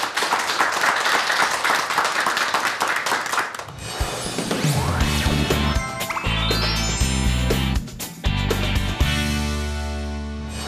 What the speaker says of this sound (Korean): 우리 박수로 환영을 하도록 하겠습니다.